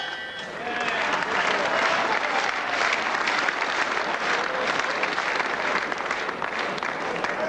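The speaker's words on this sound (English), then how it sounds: "So always the big cheer when the rounds lady gets in there." A boxing arena crowd erupts in sustained cheering and applause as the rounds lady enters the ring, a dense continuous roar from start to finish.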